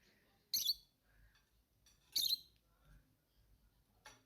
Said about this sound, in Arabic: إذا أردت يوما تبني حيوان في المنزل، أنصحك بتبني طيور الحب مثل طيور كيكي وتيتي.